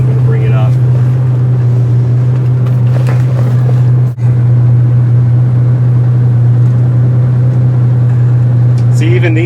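A 1982 Ferrari 400i GT with a five-speed gearbox drones loudly and steadily from inside the car while accelerating, with a strong low engine hum and rushing wind noise. A voice is faintly audible beneath it.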